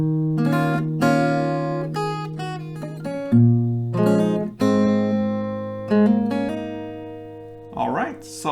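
Slow acoustic guitar melody of a song played by one guitarist, sustained plucked notes and chords ringing in steady, unhurried phrases, close and clear, with a brief muffled handling noise near the end.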